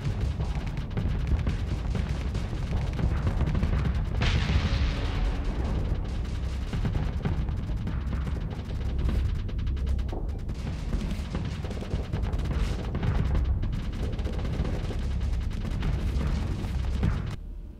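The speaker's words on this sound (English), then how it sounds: "Wow, that's a lot of rockets." Massed rockets fire in the space combat game Starsector, a continuous loud barrage of rumbling launches and explosions with no break.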